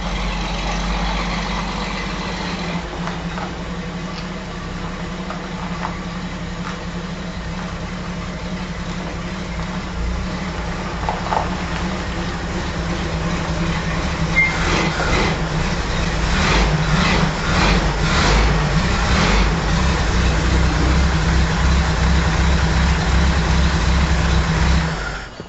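An Apache 10 truck engine runs at a steady low idle, then grows louder and fuller toward the end as the vehicle pulls into a shop, with a continuous deep rumble throughout.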